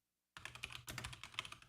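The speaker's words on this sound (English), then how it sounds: "You like the keyboard noises?" Quick, light clatter of computer keyboard keys being typed in a short burst after a moment of silence, close and clear.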